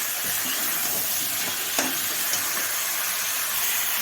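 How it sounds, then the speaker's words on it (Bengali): Winter vegetables, including cauliflower fried earlier, sauté with spices in a pan for a snakehead fish curry, giving a steady close sizzling hiss with light stirring and one brief clink, with no talking. "তো সবজিগুলো মশলার সাথে কষিয়ে নেব আমি"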